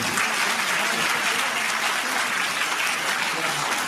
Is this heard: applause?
yes